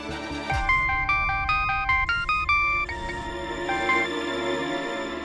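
A mobile phone rings with a melodic ringtone, a bright sequence of electronic notes repeating steadily at close range before tapering off.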